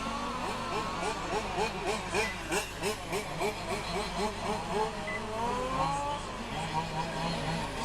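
Several large scale RC race cars screaming around a track during a European Championship final, their engines rising and falling in rapid repeated revs under steady commentary.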